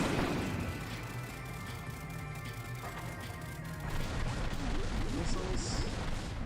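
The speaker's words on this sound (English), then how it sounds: "Missiles." Missiles from a boss attack in Kirby's Return to Dream Land Deluxe land as loud, repeated crashing explosions over continuous game noise, with a burst of heavier impacts near the end and a voice talking over it.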